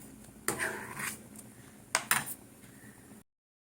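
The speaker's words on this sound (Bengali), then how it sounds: "চলো এইভাবে আমি নাড়তে থাকি" Stirring a kesar sandesh mixture in a pan at home: a few sharp scraping and clinking strokes of a utensil against the pan, with quiet rubbing between them, then silence at the end.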